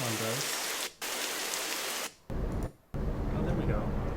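Steady hiss of rainfall from an ambient sound app plays, broken by two short silent gaps, with a brief low tonal sound near the start.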